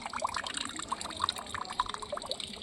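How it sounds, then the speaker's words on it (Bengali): Water trickles and splashes as something is being filled, with uneven bubbly gurgles and drips close by at moderate volume. "আজকে জল ভরা হচ্ছে।"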